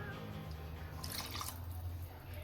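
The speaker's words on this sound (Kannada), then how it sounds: "ಇವಾಗ ಇಂಟು 2 ಅಂದರೆ 6 ಲೋಟ ನೀರು ಹಾಕ್ತಾನೆ." Water poured from a glass into rice for chicken biryani cooked in a bachelor's room: one short splashing pour rising briefly over a steady low background hum.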